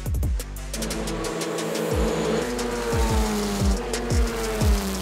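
An autonomous race car runs at Indianapolis Motor Speedway, its high-pitched engine whine sweeping down repeatedly as it passes at speed, loud and close, with no talking.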